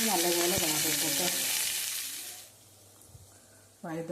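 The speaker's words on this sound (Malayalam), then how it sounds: "വഴുതനത ഞാൻ പൊരിക്കാൻ അടുപ്പത്തിട്ട് വെളിച്ചെണ്ണ വെച്ച്, വെളിച്ചെണ്ണ നല്ലതുപോലെ ചൂടായതിനു ശേഷമാണ് വഴുതന വെച്ച്" Brinjal slices frying in hot coconut oil on a stove give a bright, loud sizzle for a couple of seconds before fading to quiet, with a stirring clatter and a voice heard over the frying at the start and end.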